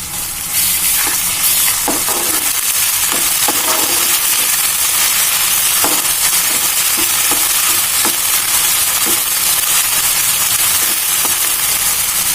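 Onions and ginger garlic paste sizzle steadily in a pan for chicken fry, a loud constant hiss broken by intermittent scraping stirs.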